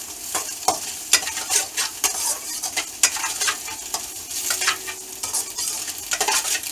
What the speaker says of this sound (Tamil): இதோட நான் மஞ்சள் தூளும் பெப்ரிகா பவுடரையும் சேர்த்தே போடுறேன் இதில் சேர்த்து இப்படியே கட் பண்ணிவிட்டு இதோட இப்படியே கிளறுவேன்